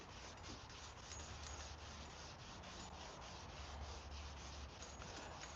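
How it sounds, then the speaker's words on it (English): Hand wet sanding with 400 grit sandpaper and water in a garage, a steady close rhythmic rubbing and scrubbing with repeated strokes, fairly quiet, with no voices. "400 wet that I'm sanding this way with some water."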